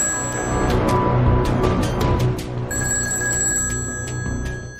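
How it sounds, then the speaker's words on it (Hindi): An old-style telephone bell rings in repeated bursts with short pauses, loud and close, with no voices. "क्रेमलिन में बजी फोन की एक घंटी"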